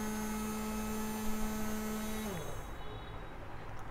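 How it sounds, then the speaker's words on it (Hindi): A small electric motor on a transformerless power supply hums steadily at full speed with a strong tonal whine, then spins down as the tone drops away, leaving faint background noise. "कितना आवाज़ आ रहा है, बहुत तेज़ स्पीड से ये चल रहा है।"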